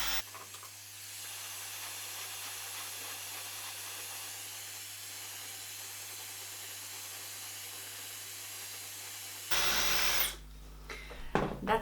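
A hair dryer blows steadily while roughly drying the front of a short stacked inverted bob, a continuous close hiss running for most of the clip before switching to a louder burst and then cutting off.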